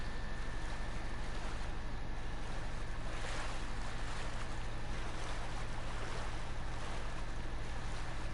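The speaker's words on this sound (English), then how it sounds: "Let me just swim the river real quick" Splashing water from a character swimming across a river in Ghost of Tsushima, a steady broadband wash with low rumbling hum throughout, no talking.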